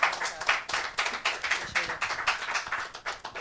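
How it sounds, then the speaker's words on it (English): Applause at an evening live music and talk show, a smaller crowd clapping in a fairly distinct, uneven patter that stays close and clear for a few seconds. "Give another round of applause, ladies and gentlemen."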